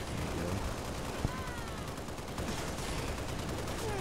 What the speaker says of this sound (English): I'm going to take this guy out too. With my assault rifle.